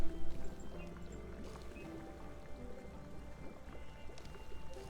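Water poured from a bucket in Minecraft, a soft splashing pour that runs steadily under a busy bed of game sounds for about five seconds.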